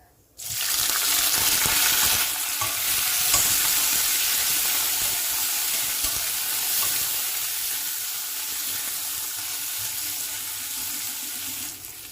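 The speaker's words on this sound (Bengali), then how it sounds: "তেলের মধ্যেই আমি দিয়ে দিচ্ছি গোটা জিরে আর 2টো শুকনো লঙ্কা। দিয়ে দিচ্ছি 2টো মাঝারি সাইজের পেঁয়াজ কুচি।" Chopped onion, whole cumin seeds and two dried red chillies sizzle steadily in hot oil in a pan, a loud continuous hiss with no talking.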